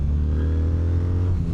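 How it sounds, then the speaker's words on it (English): A 2026 Kawasaki W800's air-cooled inline-twin engine drones loudly and close, its low rumble holding steady before the pitch shifts briefly near the end with rev-matched downshifts. "You hear some of those rev match downshifts."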